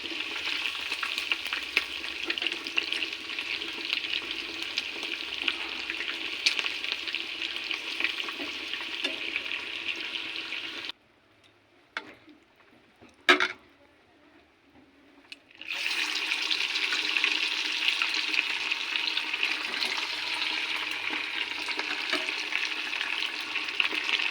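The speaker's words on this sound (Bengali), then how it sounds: "এটা সাদা তেল দিয়ে ভাজছি" Chicken pieces deep-frying in white oil over a high gas flame, a steady dense crackling sizzle that drops out for several seconds, with a short burst of stirring clatter in the gap, then resumes just as strongly.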